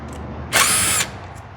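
Power tool zipping out fasteners on a BMW S 1000 RR engine cover, one sharp half-second burst of high whirring, close and loud against a quiet workshop.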